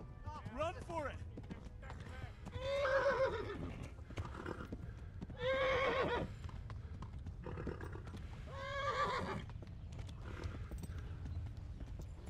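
Horse galloping in the medieval game Kingdom Come: Deliverance, with steady hoofbeats under repeated loud neighs and whinnies, the calls rising and falling several times over a continuous low rumble.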